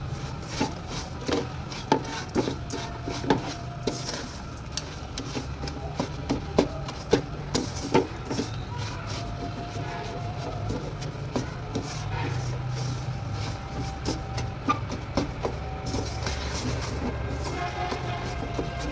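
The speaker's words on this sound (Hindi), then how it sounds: "अब इन तमाम चीज़ों को मिक्स कर लेना है।" Gond halwa ingredients being stirred together in a pan over a low flame, giving a steady scraping and rubbing with scattered soft knocks of a spoon against the pan, continuous and close, with no talking.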